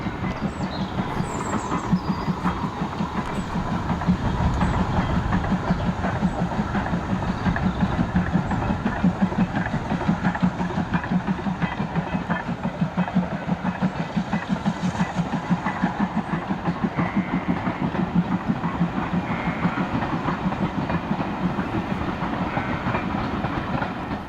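A train on the Severn Valley Railway passes steadily, a continuous low rumble with rhythmic clattering of wheels on rail, heard from a moderate distance without speech.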